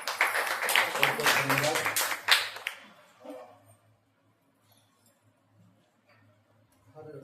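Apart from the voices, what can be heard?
church congregation applauding first-time visitors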